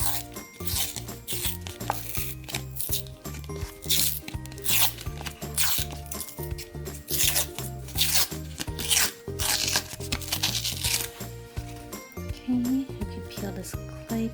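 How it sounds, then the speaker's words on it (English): A blade scrapes and rasps in short repeated strokes as it cuts open a plastic cup mold packed with clay from a glitter globe doll toy, with a steady musical backing track playing throughout. "And now we're just going to cut open this cup."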